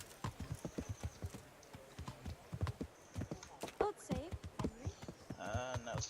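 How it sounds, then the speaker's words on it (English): Horse hooves clip-clopping at a walk in Kingdom Come: Deliverance, the medieval role-playing game, a run of distinct evenly spaced hoof strikes with a brief whinny near the end, under a faint voice. "Oh, there you are. Excellent, my teleporting horsey."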